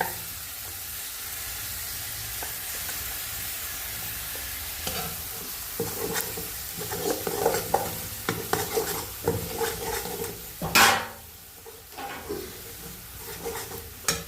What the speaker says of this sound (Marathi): मसाल्याला चांगलं तेल सोडून द्यायचं आहे नंतर खोबरं टाकून घ्या